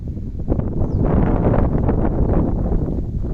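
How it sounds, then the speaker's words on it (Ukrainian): Steady, loud wind buffets the microphone with a broad rushing roar that swells and gusts throughout, with no other clear sounds, blowing across an open summer field of grass. "Якщо ви мене чуєте поміж цього вітру"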